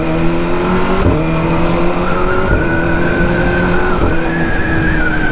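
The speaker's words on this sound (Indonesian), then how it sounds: "Jadi sekarang nih gue lagi nyobain hasil knalpotnya." A Kawasaki ZX25R motorcycle fitted with a big-volume exhaust runs continuously, its engine note climbing in pitch through a couple of throttle rises, loud and close.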